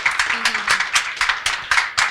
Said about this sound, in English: Everyone, please give a round of applause for our wonderful panel this evening.